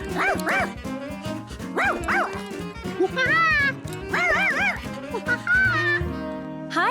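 Charky, the cartoon dog from Curious George, lets out a string of bouncy, yippy barks and whimpery yelps in quick bursts, with a voice talking in between.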